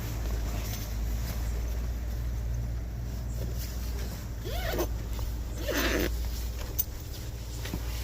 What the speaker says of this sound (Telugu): దోమలు రాకుండా జిప్పేసేసుకోవడమే